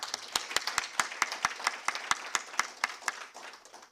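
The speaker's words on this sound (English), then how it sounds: "please, a round of applause." Audience applause at a policy research symposium, a steady run of claps with sharp individual hits standing out, moderately loud and fading toward the end, with no talk over it.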